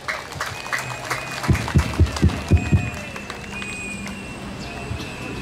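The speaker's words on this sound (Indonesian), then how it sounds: "Tepuk tangan untuk panitia kita." Audience applause for an event organizing committee at an Indonesian Independence Day church celebration, a short burst of rhythmic clapping that rises and fades, with a voice over it.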